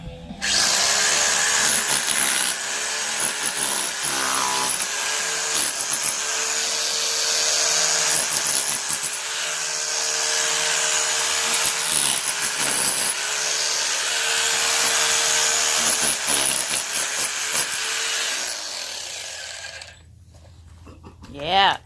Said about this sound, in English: I don't know, it's like a hammer drill.